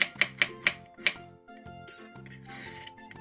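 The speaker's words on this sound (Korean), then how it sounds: "양파 1개를 채 썰어 주세요." A few sharp knife chops on a board at the start as an onion is sliced into strips, followed by quieter cutting and kitchen handling sounds.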